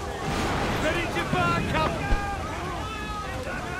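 A sailing ship at sea in the video game Assassin's Creed Black Flag gives off a steady wash of wind and waves with faint creaks and tones, and a voice talks over it.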